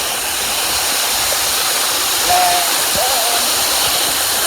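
Bilawa Falls in Mainit, Maco, Davao de Oro roars with a loud, steady rush of falling water close by, a constant broadband wash with brief faint sounds over it.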